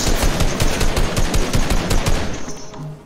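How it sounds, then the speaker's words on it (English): Rapid automatic gunfire rattles out in a dense, loud burst of repeated shots in an online shooter game, tapering off near the end. "I just shot at his shirt"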